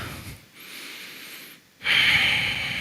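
Deep breaths during a children's kung fu exercise: a breathy exhale, a pause, a soft airy inhale, then a stronger close rush of air, with no talking.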